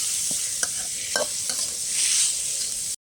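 Shrimp stir-fried in a hot pan for a Thai krachai dish, giving a steady bright sizzle with several short clattering stir strokes of the utensil against the pan, close and alone.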